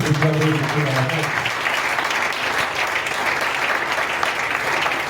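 A church congregation breaks into applause after a brief voice at the start, and the dense clapping stays loud and sustained to the end.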